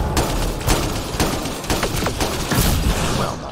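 Remnant defense turrets firing in Mass Effect Andromeda, a rapid volley of sharp energy-weapon shots and cracks in quick irregular bursts, loud and close, with battle noise underneath and no speech.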